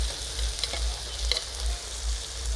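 Chopped onion, green chili and tomato fry with chili and ginger paste in a hot pan, a steady loud sizzle broken by a few sharp stirring scrapes, with no voices.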